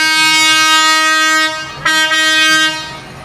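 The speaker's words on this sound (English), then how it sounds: "He's got the train horn" A loud, sustained train horn blares close by during a Christmas parade, briefly breaks off, then sounds again before trailing away.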